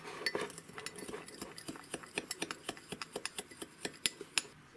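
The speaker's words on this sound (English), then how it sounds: "go ahead and stir all this up" A spoon clinks rhythmically against a bowl while stirring Creole potato wedge seasoning with black pepper, a rapid series of close, bright taps with no talking.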